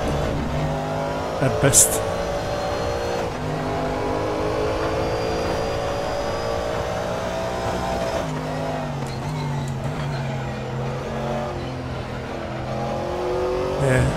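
A GT3 race car in the RaceRoom racing game drives steadily, its engine droning and shifting through gears at a constant loud level, with someone talking over it throughout.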